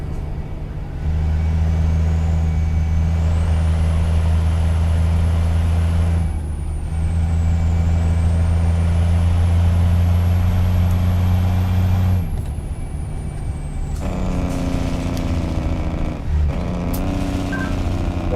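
Heavy truck engine drones steadily and loudly in a trucking video game, a Kenworth W900 profile, with a whining pitch that rises and falls and air brake hisses and releases near the end; no talk.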